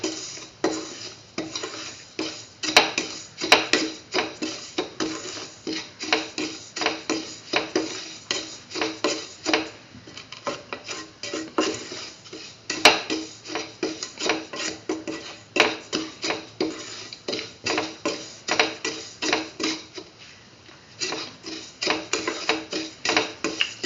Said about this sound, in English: saute semolina, saute thoroughly